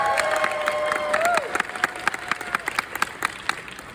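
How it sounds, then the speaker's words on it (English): Convention crowd at a Q&A panel applauding the accompanist, scattered clapping that grows into brisk claps and cheering, with a whistle-like tone sliding down early on. "Another round of applause for our accompanist."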